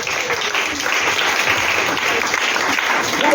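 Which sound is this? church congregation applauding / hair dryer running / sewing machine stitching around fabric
church congregation applauding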